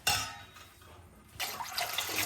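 Plain water is poured into a homemade nannari fruit drink in a kitchen, a quiet splashing and trickling with a faint clink of a vessel.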